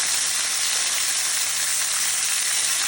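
Lamb chops sizzle steadily in their own rendered fat in a pan, a bright, even frying hiss that holds close and constant with no talking over it.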